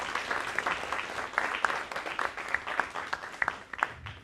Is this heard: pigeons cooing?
no